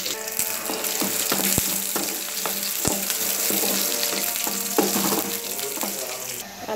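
Green chilies and curry leaves saute in a pan for spinach kulambu, giving a steady close sizzle with occasional sharp clinks of a spoon against the pan.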